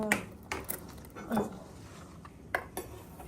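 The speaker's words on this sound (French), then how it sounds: "on va mettre 50 grammes de sucre. Avec une cuillère." A metal spoon clinks several times against a bowl while sugar is measured in, scattered light taps and pings close by in a quiet room.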